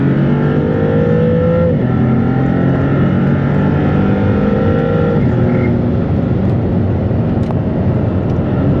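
A 640 hp Maserati GT2 Stradale on a hot lap at The Concours Club track in Miami, its engine loud and close as it revs hard and climbs through rising gear sweeps with brief shift breaks.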